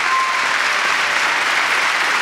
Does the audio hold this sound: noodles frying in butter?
no